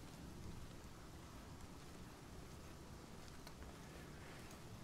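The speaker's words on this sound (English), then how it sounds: "Getting all rained on." Soft, constant hiss of rain falling in the fantasy video game Pathfinder: Kingmaker, faint and even throughout without any voices.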